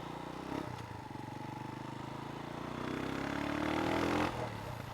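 An enduro motorcycle ridden along a rough road near Kilometer 90 in Infanta, Quezon, its engine droning steadily and rising in pitch as it accelerates, with clattering from the bike and terrain.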